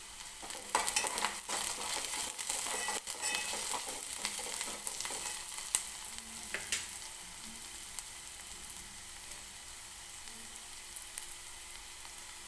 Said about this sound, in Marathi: आणखीन एक 2-3 मिनिटं हा कांदा मी व्यवस्थित तेलामध्ये भाजून घेते